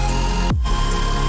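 A layered supersaw synth chord from FL Studio sustains loud and bright, with a brief dip and pitch sweep midway before the dense chord resumes, no voices.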